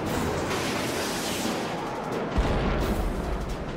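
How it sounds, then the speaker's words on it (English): A heat-seeking missile launches from a Mirage fighter jet in a Yom Kippur War air combat scene, heard as a loud, continuous roaring rush with a deep thump partway through, and no voices. "So I launch the missile."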